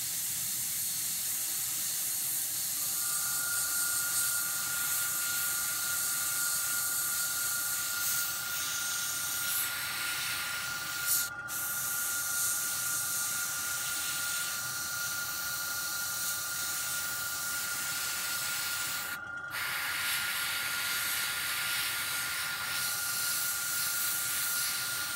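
An airbrush sprays dark yellow paint onto a Tamiya 1/35 German Nashorn model kit, giving a steady, continuous airy hiss close by that runs the whole time without a break, with no one talking.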